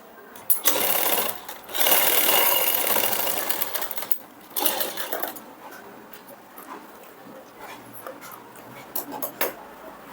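Sewing machine running in bursts while top-stitching close along the edge of a princess-cut blouse, a steady mechanical whir with pauses between runs, fairly close, with no voice.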